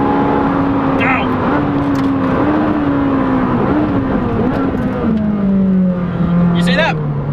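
Ferrari 458 Speciale V8 in race mode blips its revs in sharp, loud surges as the gearbox downshifts under braking, the engine note stepping down between each throttle blip, heard from inside the car.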